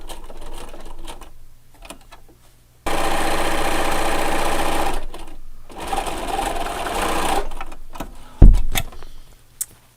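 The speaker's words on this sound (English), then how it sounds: "I'm going to back stitch after I start." A sewing machine runs in bursts while back stitching a dog collar, with two long steady whirring runs and shorter starts and stops between them, close and loud.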